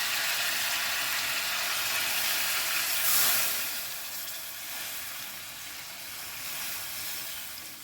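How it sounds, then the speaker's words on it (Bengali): Water is poured into a pot of vegetable chicken soup with tomato and pepper, making a continuous loud rushing hiss that swells briefly and then settles into a steady sizzling wash. "আমি জল ঢেলে দেবো।"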